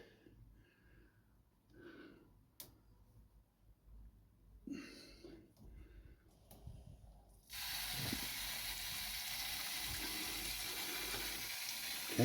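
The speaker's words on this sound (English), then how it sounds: "but there's water going in the tub." A sump pump starts pumping water into a tub. A steady, loud hissing rush begins partway through after quiet bumps and handling noises, then continues unbroken to the end.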